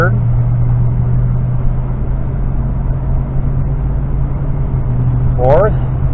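A car engine runs steadily in third gear through a 6-speed transmission, a continuous low drone that holds evenly throughout, with a brief higher squeal near the end.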